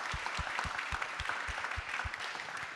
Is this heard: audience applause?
yes